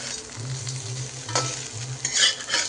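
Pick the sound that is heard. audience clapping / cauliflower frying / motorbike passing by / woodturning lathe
cauliflower frying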